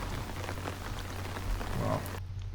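Rain falls on a golf course as a dense, steady hiss of drops with a low rumble underneath, continuous and fairly close, cutting off abruptly near the end.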